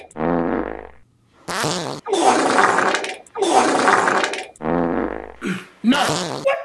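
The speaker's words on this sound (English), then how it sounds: "I should be telling you that with that loud ass fart" Loud, drawn-out farts come in a rapid run of several long bursts, close and forceful, some rasping and some flapping, with short gaps between them and no talk over them.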